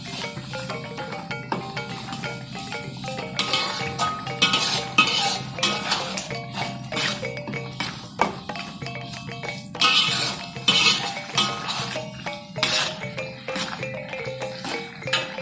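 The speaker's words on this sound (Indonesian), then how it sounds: "aduk lagi." Sambal being stirred in a pan with a metal utensil: steady scraping and sloshing punctuated by sharp clinks and knocks against the pan, close and fairly loud, with no talking.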